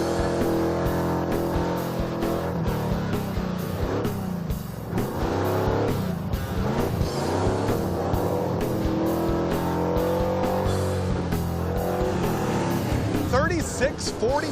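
A muscle truck races around a track, its engine revving and roaring continuously beneath near-constant excited commentary, with shifts in pitch as it accelerates and a brief tire squeal near the end.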